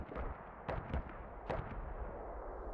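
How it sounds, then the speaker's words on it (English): A mortar barrage lands in the Squad video game as a few distant, muffled thuds spaced about a second apart over a low background rumble. "that is a really long mortar barrage"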